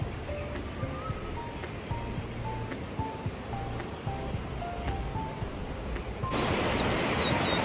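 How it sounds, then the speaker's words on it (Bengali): The Jamuni river flows beside a temple in the Darjeeling hills, a steady rushing wash of water with faint high bird notes above it that swells noticeably louder near the end. "মন্দিরের পাশে ফুল ফুল শব্দে বয়ে চলেছে জামুনি নদী"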